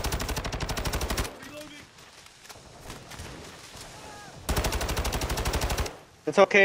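Incendiary rounds fire from an automatic weapon in Call of Duty: Modern Warfare II as two rapid, loud bursts at the start and near the end, with quieter gaps, a short spoken remark and more shots at the close.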